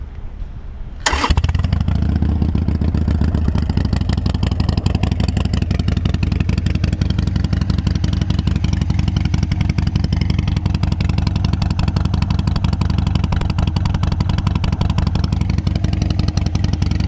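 A 2013 Harley-Davidson 883 Iron motorcycle engine cranks and catches after a second, then settles into a loud, steady, chugging idle that runs on evenly.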